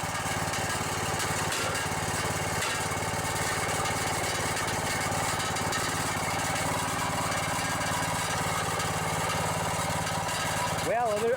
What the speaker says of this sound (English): other than that muffler rattling, sounds pretty good